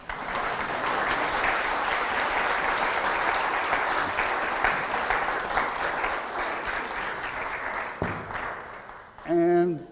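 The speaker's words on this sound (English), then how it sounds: "Okay, clap." An audience at a talk on why faith matters breaks into loud, sustained applause lasting several seconds before it thins out, followed by a brief spoken voice at the end.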